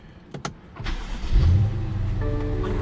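A tuned 2020 BMW M550i starts up: a couple of clicks, then the starter catches and the engine flares into a loud close rumble that settles into a steady idle, with no talking.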